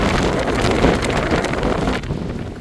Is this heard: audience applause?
no